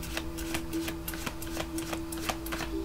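Tarot cards being shuffled by hand, a quick run of soft, irregular clicks and riffling taps at close range over a steady low background hum, with no talking.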